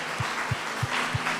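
A church congregation applauding: a dense wash of many hands clapping, loud and close, with a steady rhythmic low thump beating about three times a second.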